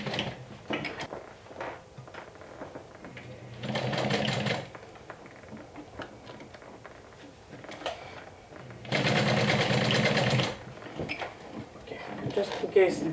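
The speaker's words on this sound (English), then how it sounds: "I'm going to add one more layer of stitching here, one more row of horizontal stitching" A sewing machine runs two short bursts stitching a horizontal row across a bag, a close rhythmic mechanical whir, with quiet handling sounds and talk in between.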